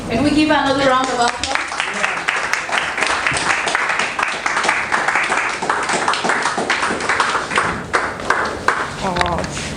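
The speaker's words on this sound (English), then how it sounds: "Can we give another round of applause?" An audience at a presentation skills training session in Lagos gives a round of applause: steady, fairly close clapping for most of the stretch, with a voice speaking briefly before and after.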